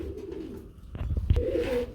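Low, throaty coos from a pair of large red Lahori pigeons repeat softly over a faint background rumble, with one brief louder thump partway through.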